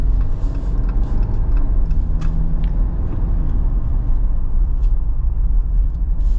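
A 2024 AEV Wrangler JL370 4xe rolls along on 37-inch tires, giving a steady low rumble of road and tire noise from inside the cabin with faint clicks and rattles on top.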